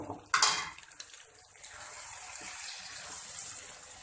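Spoon clatters against a pot while liver curry (kaleji salan) with garam masala and chopped green chillies is stirred, a sharp clink near the start, then soft scraping and sizzling throughout, close and moderately loud with no talk.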